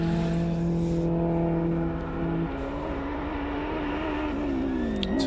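A front-wheel-drive Honda hill climb race car at a hillclimb event passes with a sustained engine drone, its pitch holding and then shifting as it moves by at a moderate distance.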